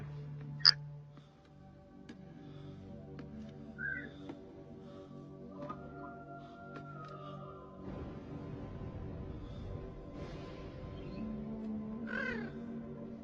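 A crow caws in the 1994 film The Crow, with short harsh calls scattered over a steady background of film score and ambience, and no talk.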